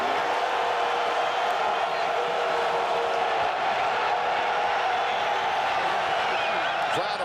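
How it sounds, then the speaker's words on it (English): A football stadium crowd at a UFL game cheers and roars continuously, a dense, steady wash of many voices heard from a distance, with a faint whistle-like tone near the end. "Crowd appreciating the defensive performance so far."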